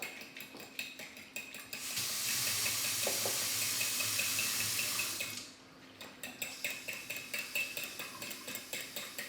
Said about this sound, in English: do you want to fill that with 200 of cold water?